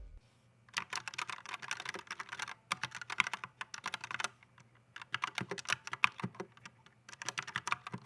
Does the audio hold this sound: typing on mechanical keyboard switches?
yes